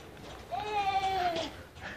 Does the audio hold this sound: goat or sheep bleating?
yes